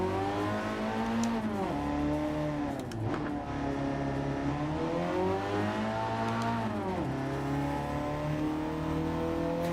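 A Ford Focus ST with its turbocharged EcoBoost engine in Gran Turismo 7, droning loudly and continuously, the pitch dipping and climbing again twice as the driver lifts and reaccelerates through gears.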